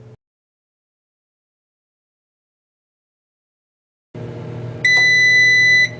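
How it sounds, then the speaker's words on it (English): After a long silence, an Emerald air fryer oven's hum starts while preheating, then a loud, steady electronic beep tone sounds for about a second nearby. "Sorry for the beeping."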